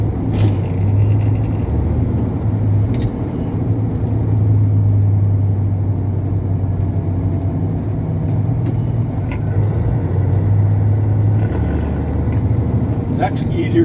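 A big truck's engine drones steadily and loud from inside the cab while the driver downshifts through the gears, the pitch of the low rumble stepping as each gear changes, with occasional clunks from the shifter.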